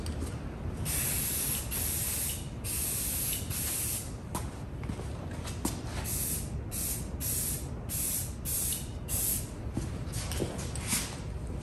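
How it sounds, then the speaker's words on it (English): An aerosol can sprays paint onto a model airplane build, a Seagull Yak 54 RC plane, in a series of hissing bursts of varying length separated by short pauses, each spray close and clear. "what I like to do here is spray paint"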